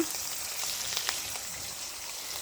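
Curry of beans, potato, cauliflower, tomato and fish frying on a clay stove, a soft steady sizzle with a few faint crackles and stirring sounds.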